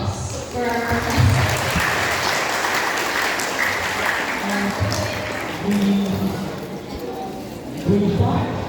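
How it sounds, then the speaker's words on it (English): Students at a university welcome event clapping for their professor, sustained applause in a room with voices talking over it throughout. "a big applause for our professor"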